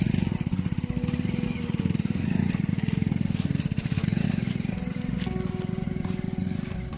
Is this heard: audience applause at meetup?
no